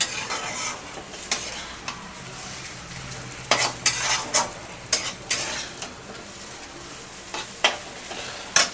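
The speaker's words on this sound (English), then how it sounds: "Give it a little more roast." Pumpkin pieces roasting over a medium flame in a pan, with a constant sizzle broken by repeated scraping stirs and clinks of a metal spoon against the pan, close and prominent.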